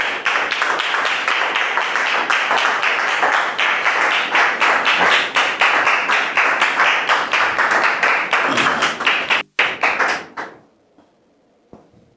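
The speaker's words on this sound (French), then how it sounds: "on les reçoit s'il vous plaît sur vos applaudissements" Audience applause after a host invites the crowd to welcome guests, dense steady clapping filling the room for about nine seconds before breaking off into scattered final claps and silence.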